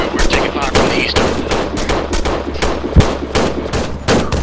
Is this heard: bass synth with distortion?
no